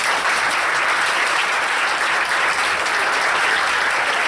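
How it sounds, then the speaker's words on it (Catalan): Applause from an audience at a school play, dense, loud clapping sustained throughout. "però també li podem fer un aplaudiment."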